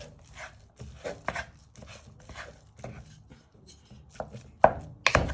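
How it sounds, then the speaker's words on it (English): Beef mince being broken up in a pan with a wooden spoon for spaghetti Bolognese, heard as a run of soft, uneven chopping and scraping knocks, close by, with a couple of sharper hits near the end. "you want to place it all in, and with your wooden spoon"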